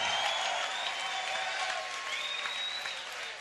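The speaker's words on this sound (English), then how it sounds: "how about a big round of applause for both of these warriors right here?" A crowd claps in sustained applause for two boxers after an IBF title fight, a dense steady wash of hand claps filling the arena throughout.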